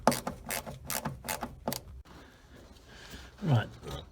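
Ratchet wrench undoing the bolts on a bracket mounted to the firewall of a 1956 Mercury, a quick series of close, sharp clicking bursts followed by quieter mechanical handling.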